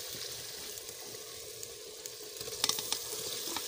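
Steady sizzling of chicken frying in hot oil with garlic and spices, with a few sharper crackles and pops near the end; close and continuous, no talking.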